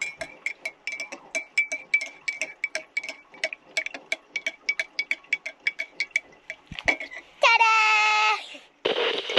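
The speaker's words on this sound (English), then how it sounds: "Now let's give it a final stir." A spoon stirs a Milo drink inside a Jetboil cup, giving quick, regular metallic clinks and scrapes in a ticking rhythm. A brief burst of other noise follows near the end.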